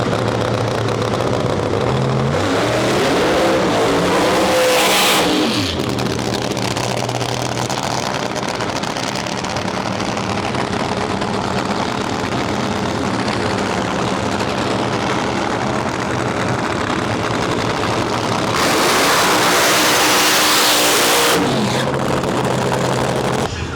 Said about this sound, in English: we've got E1 of the Nitro Funny Cars coming up right now